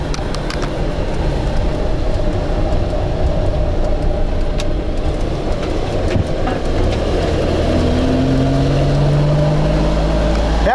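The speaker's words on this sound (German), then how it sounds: "Setzt ein Pott aus. Ich fahre gerade nur aus zwei Pötten." A Wartburg car's engine runs rough and misfires on only two cylinders, a loud, continuous uneven drone heard from inside the vehicle while driving.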